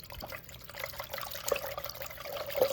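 Sand dollars shaken in a container of water to rinse out bleach, a continuous close sloshing and trickling with small splashes and a few sharper drips, with no talking.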